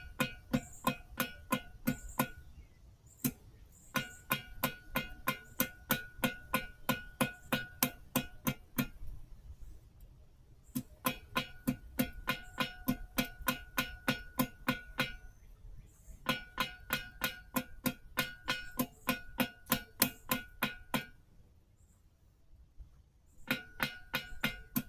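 A blacksmith gently hammers a taper on an anvil while rotating it for a penny scroll, giving ringing metallic clangs in steady rapid runs broken by short pauses, heard close.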